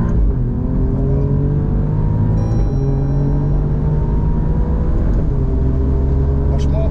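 A track car accelerates on a circuit, its engine note climbing in steady harmonic sweeps with a brief dip partway through, then pulling on as a loud, continuous close-up drone.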